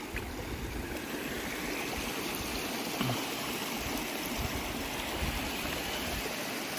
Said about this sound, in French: La rivière qui coule.